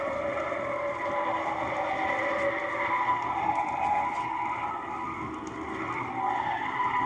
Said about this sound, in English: Listen to the Kingswood brake to take it at an incredible 50 miles an hour.